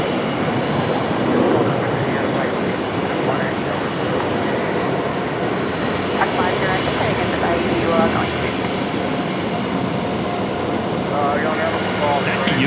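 Emirates jet engines rumble and roar steadily at Brisbane Airport at night, a sustained broad drone from a parked or taxiing airliner, with people talking over it at times.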